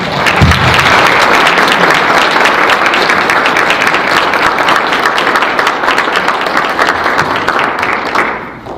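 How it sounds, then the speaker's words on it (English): Loud, dense applause from an audience at a community foundation's 25th anniversary celebration, sustained for several seconds and tapering off at the end. "So I'd like to recognize these people with a round of applause."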